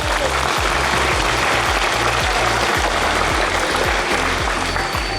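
Sustained crowd applause at a school flag ceremony with a police chief, a dense steady wash of clapping throughout, with low rhythmic thumps underneath and no speech.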